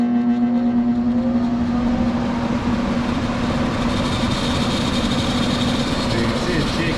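A Ridgid air mover blower running unbalanced and shaking, a loud steady whirring drone with a strong constant hum and rattly vibration close by, a voice faintly under it.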